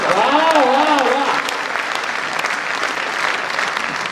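Audience applause at a Hindi kavi sammelan satire recital, a dense steady wash of clapping lasting about four seconds, with voices and cheers over its opening second.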